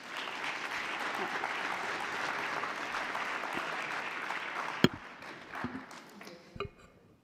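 Sustained applause fills a party assembly hall for about five seconds, a dense steady clatter of many hands that then thins out into scattered claps and a few sharp knocks.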